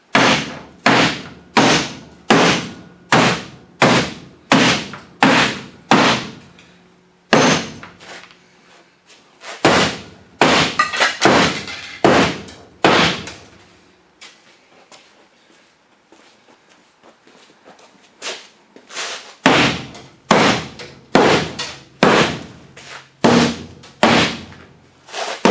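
Sharp metallic bangs strike in quick, regular bursts of hammer blows on a demolition derby car body, close and loud, with short pauses between the runs of strikes.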